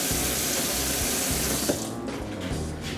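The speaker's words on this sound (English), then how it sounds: "now I'm gonna put a little bit of water in here and blend this one up." Water runs and pours steadily into a blender jar while raw vegan parfait ingredients are prepared in a kitchen, a continuous close splashing stream that thins out near the end.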